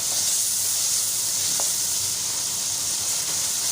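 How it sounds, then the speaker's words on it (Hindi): Spice masala with softened tomatoes is fried in a pan, making a dense, even hiss of sizzling with a faint stirring knock partway through, close and uninterrupted. "इसको 2 से 3 मिनट के लिए हम अच्छे तरीके से मसाले को भूनेंगे"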